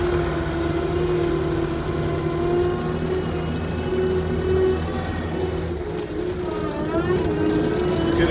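A Kioti SL750 skid steer runs in first gear with a loud, steady engine drone and whir that holds throughout, the pitch shifting slightly near the end as it works.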